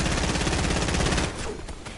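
A dense stream of rapid gunfire from the Fortnite video game rattles loudly for over a second, then cuts off, leaving a few fainter scattered shots.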